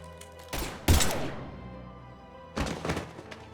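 Gunfire in Mass Effect 3 Legendary Edition: two loud, close bursts of shots near the start, then a ringing decay, followed by a second rattling burst toward the end.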